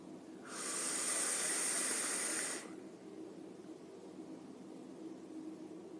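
Exhaled vapor from an e-cigarette running 12 Monkeys e-liquid: one steady, breathy hiss that lasts about two seconds, then fades into quiet room tone.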